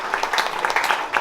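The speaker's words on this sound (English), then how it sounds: "please give them a round of applause to Affirming Works" A crowd at a Beatdown Championship battle event claps in a brief, dense burst of applause, fairly close and steady throughout.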